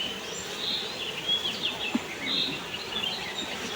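Honeybees buzz at the hive, a faint, steady hum close by, with a few soft chirps mixed in and no voices.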